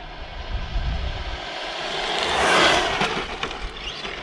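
A Tamiya RC car with a black Sport Tuned motor on a 2S LiPo runs flat out. Its high whine builds to a loud peak as it passes close by, then fades away, with no voices.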